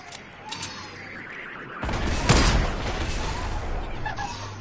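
Grenade launcher fire in an online shooter on PS4, a few faint thuds followed by a loud blast and a long crackling rumble of gunfire and explosions, fairly close.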